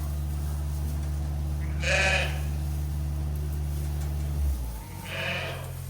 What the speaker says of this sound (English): The sheep are in their new house and they are doing really good.